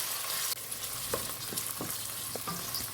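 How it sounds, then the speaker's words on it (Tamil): Onion sautéing in a pan, a steady bright sizzle with a few soft scraping stirs of the spoon, close and alone with no talk. "வெங்காயம் சேர்த்துட்டு நல்லா அதோட கலர் சேஞ்ச் ஆகிற வரைக்கும் நம்ம வதக்கி விட்டுக்கலாம்"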